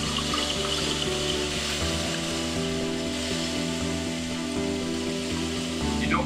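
Water flows steadily from a cleaning discharge nozzle into a transparent glass, giving a continuous hissing rush over a low humming pump drone that holds at a constant level with no talking.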